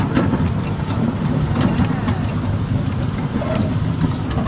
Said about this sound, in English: A little ride on the choo-choo.